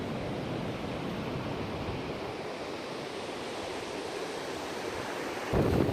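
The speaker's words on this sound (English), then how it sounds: "that's the ocean down over there" Ocean surf rolling far below a big canyon on Vancouver Island's Juan de Fuca coast, heard from a suspension bridge as a steady, broad wash of noise with no talk, swelling slightly louder in the final moment.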